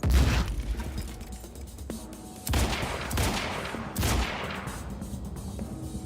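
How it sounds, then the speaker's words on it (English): Gunfire and grenade blasts from the video game Quantum Break: a series of sharp bangs and rumbling booms, with three distinct heavy bursts spaced a couple of seconds apart and smaller shots between them. "grenade."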